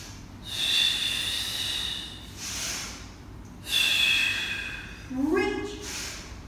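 An instructor's breathing during a beginner Pilates exercise, with several long, close, airy breaths in and out spaced across the moment and a short snort-like exhale near the end.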